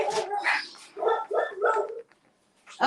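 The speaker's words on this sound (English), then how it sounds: "You heard the dogs and everything else, right?" Dogs arriving home bark close by in a quick run of several loud, rough barks, a short silence, then another bark starts.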